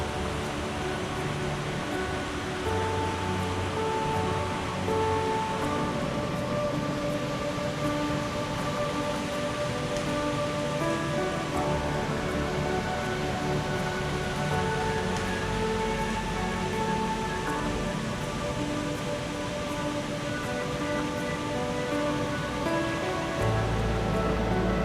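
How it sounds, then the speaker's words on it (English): Loud, continuous roar of water gushing down between two waterfalls, a dense steady rush with no pauses and no voices, filling the whole span close up. "The sound of the water gushing down is really loud and strangely quite calming."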